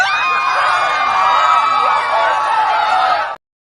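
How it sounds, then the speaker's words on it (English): Screaming crowd sound effect: a dense, loud wall of many shrill screams and yells held for about three seconds, then cut off abruptly. "The screaming you're hearing is a sound effect."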